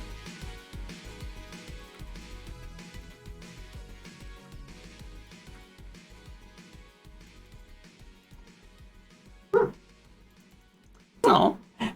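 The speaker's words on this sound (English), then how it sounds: "she's just making, like, low bark sounds" A dog lying in an office bed gives a few low, short barks near the end, two brief bursts standing out over steady background music.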